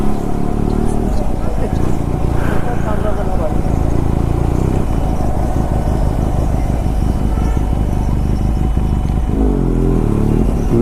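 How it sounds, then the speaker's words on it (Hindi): A motorcycle rolls slowly into a parking area near a palace in Tripura, its engine rumbling steadily and close throughout, with brief revs and some clatter as it moves through the lot. "तो ये हमारी बाइक घुसने वाली है यहीं कहीं पे।"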